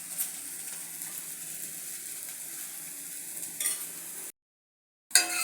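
Green gram dosa fries in oil on a hot pan, giving a steady close sizzle and crackle that cuts out briefly to silence before resuming.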